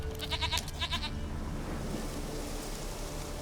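A goat in The Witcher game bleats in a few short repeated calls at the start, then gives way to a steady wash of wind or surf-like ambience with no speech.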